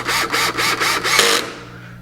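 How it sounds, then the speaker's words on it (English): A power drill runs in screws into the laminated side of a plywood kitchen cabinet during assembly: about five quick, evenly spaced pulses of whirring bite into the wood, then the motor spins down and stops. "I'm just going to run a couple of screws in it."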